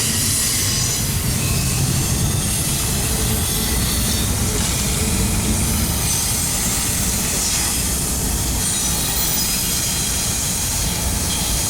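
A long freight train rolls steadily past at Cajon Pass, its loud, continuous rumble and clatter laced with wheel squeal and hiss, with no talk.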